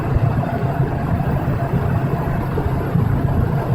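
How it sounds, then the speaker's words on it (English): A biogas plant engine with its cooling fans drones in a steady, unbroken low rumble and broadband whoosh, close and constant with no talk over it. "This here are cooling fans for the engine."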